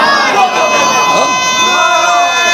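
A crowd at a Shia majlis in Vadodara chants a religious slogan together, a loud, close mass of voices rising and falling in unison.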